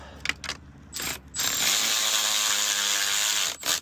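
A power tool tightens bolts on a 1988 IROC-Z seat track, with a few short clicks and bursts followed by a sustained whirring buzz of about two seconds that stops abruptly, close and fairly loud.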